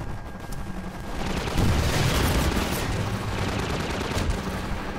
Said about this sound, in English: They're shooting at me. There's a lot of explosions. There's a lot of gunfire.